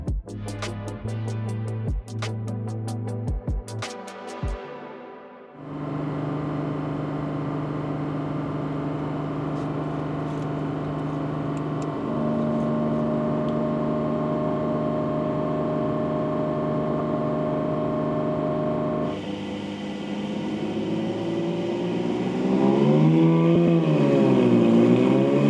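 Porsche 718 with a 4.0L flat-six and OAP exhaust runs on a dyno, first blipping in short sharp revs, then holding a loud steady drone before climbing into a rising, wavering high-rpm howl.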